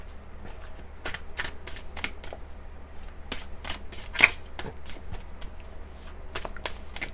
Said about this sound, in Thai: ขอสับไพ่ก่อนนะคะ